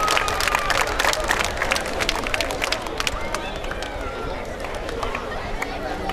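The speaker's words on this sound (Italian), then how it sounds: "Un applauso alle nostre bellissime boxerine" A crowd at an amateur boxing night claps and cheers for the ring girls, a dense patter of applause that slowly thins out, with an announcer's voice over it.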